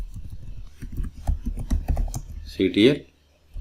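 A terminal command is typed on a computer keyboard: a rapid, close run of clicking keystrokes, then a brief vocal sound and a quiet finish.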